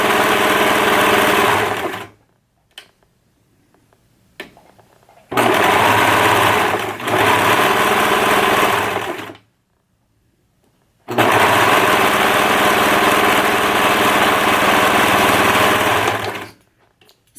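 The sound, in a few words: serger sewing fabric pieces of a dress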